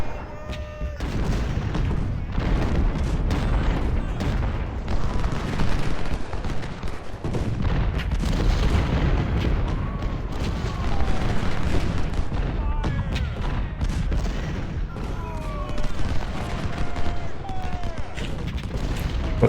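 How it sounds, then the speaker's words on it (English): Cannon artillery fires repeatedly in the Civil War battle game Ultimate General: Civil War. Dense overlapping booms and gunfire rumble continuously and loudly throughout. "This cannon unit did pretty well."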